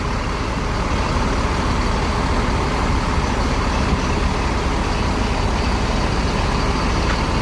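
A small Kia shuttle van of the PO Adhi Prima bus company idles steadily with a low continuous engine rumble, accompanied by a broad, constant background hiss from the surrounding bus terminal area.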